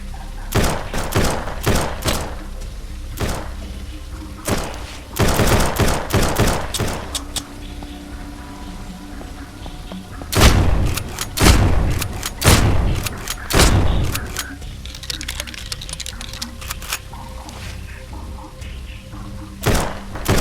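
Gunfire in the zombie survival game Surroundead, loud sharp shots fired in uneven clusters, some quick doubles and triples, separated by short quiet gaps.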